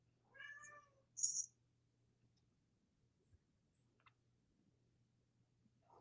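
A cat meows twice indoors, close and fairly clear, with a faint steady hum underneath and a few small clicks afterward.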